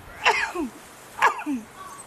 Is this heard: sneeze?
yes